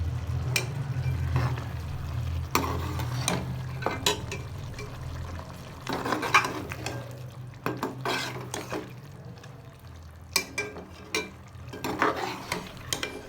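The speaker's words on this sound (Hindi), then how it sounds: "अब हम इसे 3 से 4 मिनट अच्छी तरह भूनेंगे।" Pieces of goat tripe (ojri) are stir-fried in a pan, with a constant soft sizzle broken by repeated scraping and clattering strokes of a spoon against the metal, close and fairly quiet.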